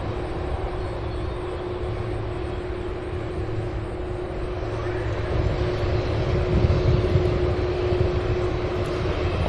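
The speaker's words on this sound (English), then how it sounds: "That's, I believe, a 767 arriving from Salt Lake City" A Boeing 767 airliner arriving from Salt Lake City at Louisville airport, a continuous far-off engine roar with a steady hum that swells slightly toward the end, no voices over it.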